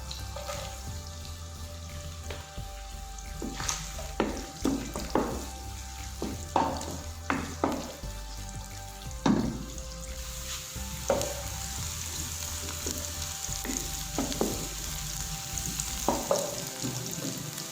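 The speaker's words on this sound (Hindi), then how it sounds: "सबसे पहले मैं प्याज फ्राई कर लूँगा।" Onions fry in ghee in a kadai with a steady close sizzle, while a spoon scrapes and stirs in irregular knocks throughout.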